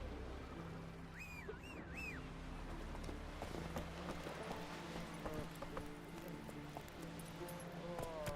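Roach the horse galloping in The Witcher 3, hooves clip-clopping in a steady rhythm under faint ambient game sound and music, with a brief call partway through.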